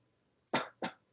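Two sharp, close coughs in quick succession, set off by pressure on the rib cage, loud and clear against near silence.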